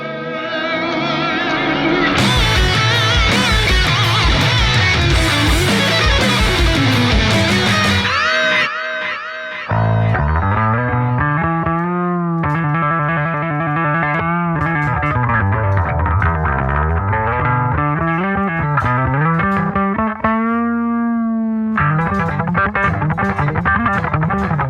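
An Epiphone Thunderbird Classic Pro bass guitar plays loud, sustained, distorted lines through effects in a studio, with bends and slides across a continuous riff and no talking.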